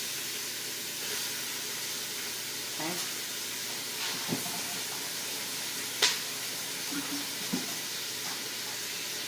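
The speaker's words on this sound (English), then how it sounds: "throw my ground beef in here, okay? And you can hear it sizzling." A steady, fairly faint sizzle and hiss of ground beef frying in a quick cooker, with occasional small pops and clinks, and a brief spoken word.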